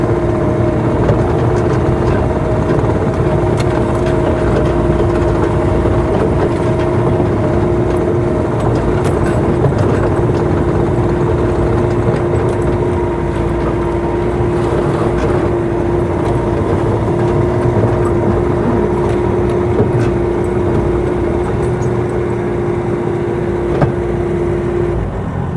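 A 2014 Bobcat T590 skid steer loader engine runs steadily while the machine is driven, a loud continuous drone with a constant tonal hum and no pauses.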